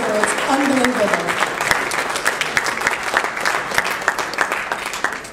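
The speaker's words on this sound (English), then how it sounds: "could you all give a big round of applause for what you have accomplished in the military and as an ambassador" An audience at a farewell event for a military general breaks into sustained, fairly loud applause, dense clapping with a brief voice at the start.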